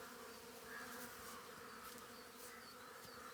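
Honeybees hum steadily at an overwintered Japanese beehive in an apiary, a continuous close buzzing drone with no voices.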